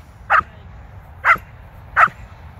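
A female dog barks on the speak command during training, three short, sharp barks evenly spaced about a second apart, close and clear against a quiet room.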